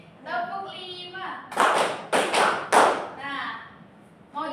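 Counted hand claps from a class ring out as three loud, crisp bursts in quick succession, framed by a voice speaking before and after.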